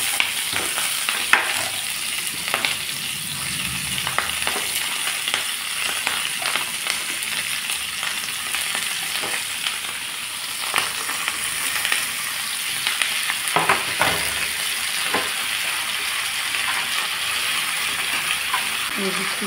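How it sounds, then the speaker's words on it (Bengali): Vegetables fry in mustard oil with black cumin seeds in a frying pan, a loud steady sizzle with scattered clinks and scrapes of stirring, close up, with some faint voice in the background. "ফ্রাই প্যানে দিয়ে দিলাম সরষের তেল, দিয়ে দিচ্ছি কালো জিরা ফোড়ন, দিয়ে দিচ্ছি সবজি।"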